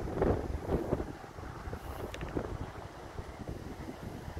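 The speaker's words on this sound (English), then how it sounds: "It's so windy here." Strong wind gusts buffet the microphone on a golf course, a steady low rumbling roar that is heaviest at the start and continues throughout.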